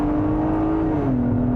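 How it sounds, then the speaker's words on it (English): A 2022 Acura MDX A-Spec SUV's engine holds a loud, steady revving drone that dips slightly in pitch partway through, with no voices. "the racy sounding engine"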